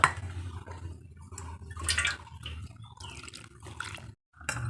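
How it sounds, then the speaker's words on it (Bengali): Water trickles and splashes in small additions while batter is stirred in a bowl, soft wet sloshing and drips with brief pauses, close and fairly quiet. "অল্প অল্প জল দেব আর মিশ্রণটা মেশাতে থাকবো।"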